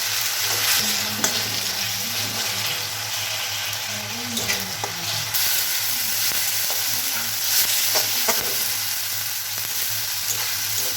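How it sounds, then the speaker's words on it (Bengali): Chopped tomato stirred into onions frying for okra masala, with a loud continuous sizzle, spatula scrapes and stirring knocks against the pan, and a steady low hum underneath. "টমেটো কুচিটা দিয়ে দিলাম। ভালো করে মিশিয়ে নেব।"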